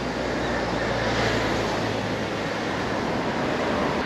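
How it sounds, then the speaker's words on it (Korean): Strong wind roars and buffets the microphone continuously while riding a 2021 Giant Revolt Advanced 2 gravel bike fitted with a 500W Bafang motor and semi-road tires, a dense, loud rush with no talk. "바람이 너무 셉니다."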